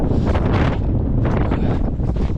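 Strong wind buffeting the microphone during a winter ascent of Cherni Vruh mountain, a loud, continuous gusty roar with surges and dips, no voices.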